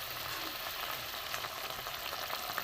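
Tilapia pieces go into a boiling, spicy oil-and-chili curry gravy, giving a continuous soft bubbling sizzle that stays even and fairly quiet throughout, with no talking.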